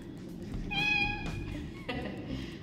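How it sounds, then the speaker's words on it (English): A house cat meows once or twice, close and clear, in a quiet indoor room with low background hum. "my cat would like to say hello."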